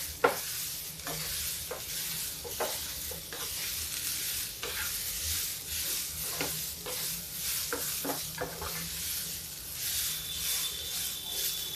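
Potatoes and sprouted mung beans fry in a pan with a constant close sizzle, broken by repeated scraping stir strokes at an uneven rhythm, with no voices.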